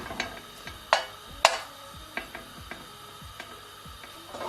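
An old, worn mixer beats a French toast mixture of egg and vanilla, making a fairly faint, irregular rattling and clicking like a loose mechanism, with a few sharper knocks.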